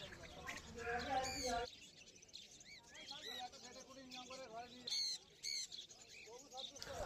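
Cage birds at the Uluberia bird market, including cockatiels, chirp and whistle in bursts against a busy crowd, with someone talking over the calls throughout.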